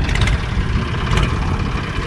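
A vintage Ford 3600 tractor's diesel engine runs steadily at close range, a continuous low rumble with no speech over it.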